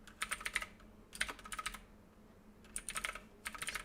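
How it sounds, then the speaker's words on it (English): Bursts of rapid typing on a computer keyboard, three clusters of close, crisp keystrokes separated by short pauses, fairly quiet with no talking. "that's enough typing for now"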